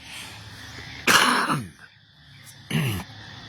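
Two separate coughs, the first a harsh, drawn-out burst and the second shorter, close by against a quiet outdoor background with light wind.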